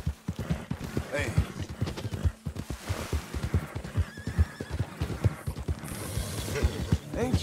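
A horse in the video game Red Dead Redemption 2 whinnies and snorts close by, its calls interleaved with hoof clops, while someone talks to it throughout.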